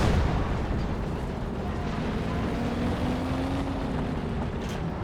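Pack howitzer artillery in Company of Heroes 2 rumbles as a loud, sustained low roar of distant firing, with a faint tonal drone running through the steady battle din.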